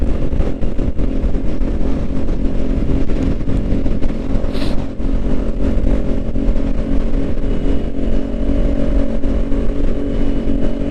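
A 2021 Kawasaki Ninja 400 motorcycle engine hums loud and steady while riding, a constant close drone with wind rush and passing traffic noise, no speech.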